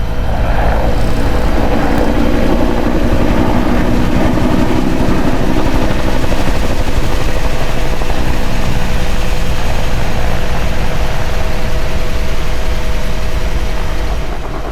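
A Bell Cobra helicopter makes a low pass during an airshow display, its loud, continuous rotor thump and turbine roar sustained and close throughout.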